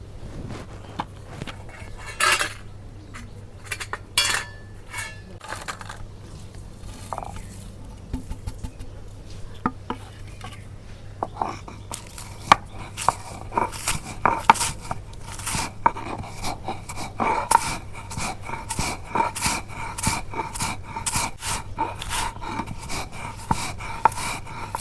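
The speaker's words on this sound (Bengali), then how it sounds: "তো বিস্কুটগুলো আমি শিলপাটার মধ্যে বাইরে ফাঁকি করুম" Biscuits are crushed on a shil-pata grinding stone at home, making irregular crunchy scrapes and gritty grinding strokes up close that grow busier and more rhythmic as the work goes on. No speech.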